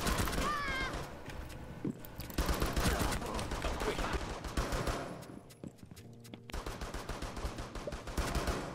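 Rapid gunfire from Cav's pistol in Rainbow Six Siege, a dense run of sharp cracking shots layered with game effects and intermittent talk.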